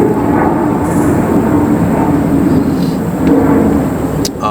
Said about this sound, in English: let the plane go by.